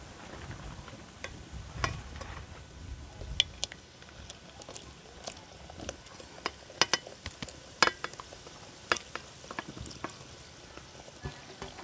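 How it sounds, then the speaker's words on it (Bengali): Cashews go into lightly heated white oil in a wok, producing faint, scattered crackles and small pops that stay quiet and irregular throughout, with no talking. "তেলটা হালকা গরম হয়ে গেছে, এবার সমস্ত কাজুগুলো তেলের মধ্যে দিয়ে দেবো।"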